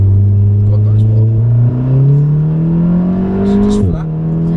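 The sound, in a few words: Volkswagen Golf R accelerating hard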